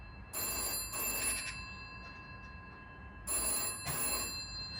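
An old telephone bell rings in a call box at Avoncroft Museum, two loud metallic trills separated by a short pause, close by and with no voices.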